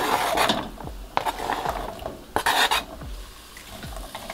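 Beets go into a frying pan of hot sunflower oil, scraping and clattering against the pan with several sharp metallic knocks and a soft background sizzle.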